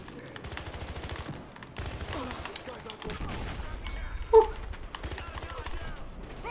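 Rapid bursts of automatic gunfire in the video game Battlefield Hardline, chattering volleys and a sharper close shot amid chaotic in-game action.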